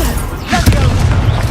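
The Confringo fire-blast spell in Hogwarts Legacy, a loud, dense boom with crackling burst filling the whole moment, close and heavy, with a voice briefly over it.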